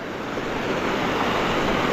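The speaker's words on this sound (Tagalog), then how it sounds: "Ang lakas sa tubig ngayon." Strong rushing river water in a forest, a loud, steady, dense roar of broadband noise filling the whole moment without pause or voices.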